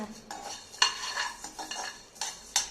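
Whole spices for garam masala dry-roasting in a pan, stirred steadily so seeds rattle and scrape against metal with soft crackles, close and fairly quiet, no voices.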